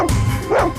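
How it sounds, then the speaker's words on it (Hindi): A dog gives a short bark or yip, close and fairly loud, in a brief burst with no talk over it. "शेरू बार बार उस तरफ मुंह करके भौंक क्यों रहा है?"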